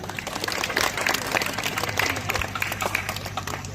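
An audience at a poetry gathering at an ashram in Kanpur bursts into loud, continuous applause for the chief guest, dense overlapping claps filling the whole stretch.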